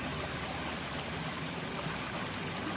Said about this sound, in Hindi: ये देखें ट्यूबवेल चल रहा है।